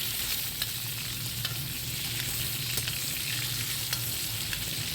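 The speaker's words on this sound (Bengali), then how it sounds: "এবার আমি এর মধ্যে আলু কটা দিয়ে ভেজে নেব" Potatoes and pointed gourd (parwal) fry in hot oil in a pan for a Bengali vegetarian curry, giving a steady, close, dense sizzle with a few faint clicks of stirring and no voices.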